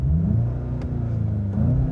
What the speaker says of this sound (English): the engine has a pretty nice throaty synthesized sound